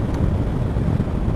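Wind buffets the rider of a Honda CRF1000 Africa Twin motorcycle with the helmet visor open, a continuous loud, low roaring rush against the microphone.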